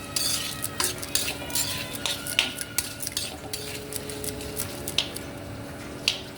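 Dry curry leaves, garam masala, chili powder, turmeric and salt fry in a pan, with repeated scraping and clinking of a spoon stirring against the metal over a soft sizzle, close up and steady.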